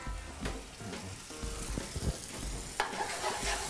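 Dry white Pinot Grigio poured into a hot pan, sizzling and crackling with stirring scrapes and small clinks, fairly quiet and close, with no one speaking.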